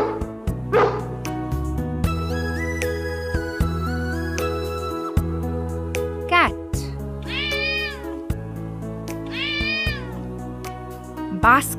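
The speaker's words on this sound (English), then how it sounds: "A cat lives in a basket." A cat meows twice, rising and falling cries that stand out clearly over bouncy background music, with a dog's yips and barks also mixed in; close and fairly loud.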